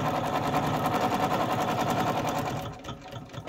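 A sewing machine fitted with a binding foot runs fast through thick quilt binding, a loud, steady mechanical chatter that drops away near the end, with no voices.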